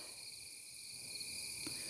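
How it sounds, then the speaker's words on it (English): Crickets chirp at sunset on a calm evening outdoors, a steady high-pitched continuous trilling chorus that stays moderately faint throughout, with no voices and only a tiny soft knock near the end. "I hope you hear the crickets."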